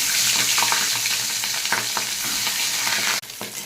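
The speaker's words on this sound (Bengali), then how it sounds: "মাছটাকে আমি ভাজা বসিয়ে দিচ্ছি।" Fish rubbed with salt and turmeric sizzles loudly in hot oil, a dense steady crackle with occasional stirring clicks, close up and without talk, ending in a brief sharp shift as the sizzle drops.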